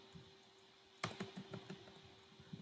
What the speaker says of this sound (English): here just type the command Laravel